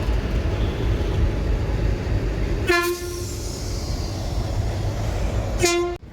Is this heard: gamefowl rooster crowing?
no